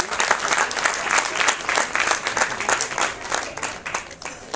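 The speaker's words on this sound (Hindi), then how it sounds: "जोरदार तालियों से हमारे इन दोनों अधिकारियों का स्वागत करिए।" Loud, sustained applause from an audience welcoming two officials onto the stage at the Aadi Vigyan Mahotsav science festival in Uttarakhand, dense clapping throughout without a break.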